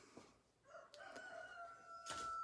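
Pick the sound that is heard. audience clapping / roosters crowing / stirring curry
roosters crowing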